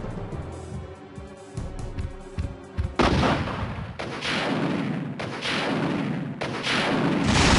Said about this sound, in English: The rocket launcher. Okay, this is beautiful. We have 4 shots.